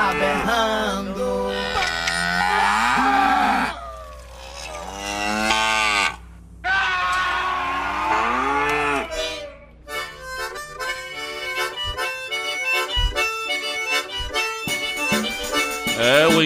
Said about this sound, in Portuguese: A vacada tá no pasto, trancada lá no curral. A bezerrada tá berrando.